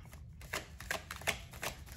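Tarot cards being shuffled by hand, a run of soft riffling and slapping bursts at an uneven rhythm, close and fairly quiet with no talking.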